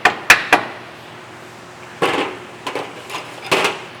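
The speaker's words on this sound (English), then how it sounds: "If you must, you can hit it with the hammer just so you can go kind of in" A hammer strikes a lower front control arm bolt on a 2017 Mazda CX-5, with three sharp metallic taps followed by several duller knocks, close and without talk.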